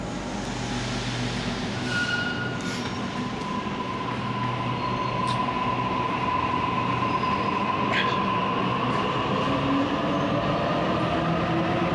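Train at an Adelaide railway station, heard as a steady, loud rumble of rolling carriages with faint wheel squeals and a sustained tone, running continuously without talk.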